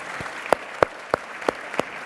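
An audience at a live conversation event with New Hampshire's governor applauds in a steady crowd roar. Sharp, regularly spaced claps near the microphone punctuate it about every third of a second.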